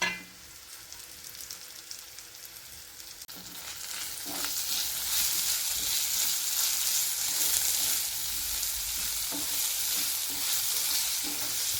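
Ginger, garlic, green chillies and curry leaves sauté in hot oil for a garlic pickle, producing a broad hissing sizzle that swells louder after a few seconds, with occasional stirring knocks and no voices.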